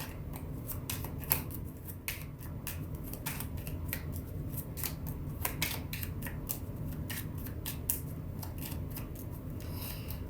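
A deck of tarot cards is shuffled close by, a quiet run of crisp riffling flicks and papery snaps repeating irregularly throughout, with no talk.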